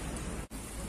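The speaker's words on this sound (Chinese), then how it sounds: "这大雨马上下下来了，已经开始下" Heavy rain beginning to fall during Yangtze River flooding in China, a steady broadband hiss that drops out for an instant partway through before resuming at full strength.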